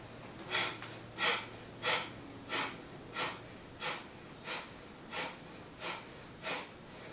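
Slow, deliberate breaths rush through the nostrils during a yoga twist, ten or so even surges about every seven-tenths of a second, close and clear over quiet room tone.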